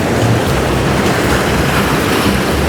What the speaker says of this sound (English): Looks like the rollers are starting to come in a little better here for the surfers.